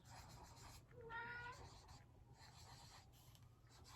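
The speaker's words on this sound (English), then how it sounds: "I'm sure you've probably heard my cat meow." An older, talkative house cat meows once or twice in the middle, a short rising wail close to the microphone over a steady low hum, with no talk.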